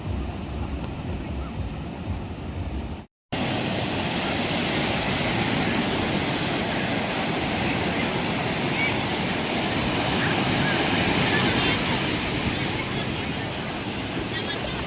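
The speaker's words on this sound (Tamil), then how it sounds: "இந்த கடல் அலையும் நம்மளுக்கு நண்பன் தான்" Sea waves breaking on Varkala beach, a loud continuous roar of surf with wind noise on the microphone, briefly cut to silence near the start before resuming steadily.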